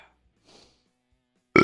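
A short, loud belch bursts out close to the microphone at the very end, after a near-silent stretch of faint breathy noise.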